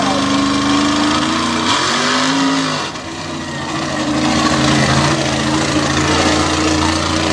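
Ford-powered rear-engine drag racing rail making a run at a Sanford event, a loud continuous engine roar that holds steady, dips briefly and then returns, with announcer talk heard over it.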